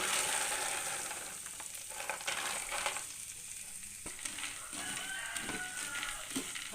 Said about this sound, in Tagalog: Tapos ilalagay ko na yung mani kasi mabilis lang naman tong maprito kasi nga maninipis siya.